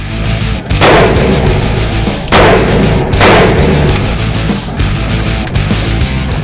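Three loud, sharp gunshots crack close by, spaced unevenly, each followed by a brief ringing decay over a rumbling outdoor background.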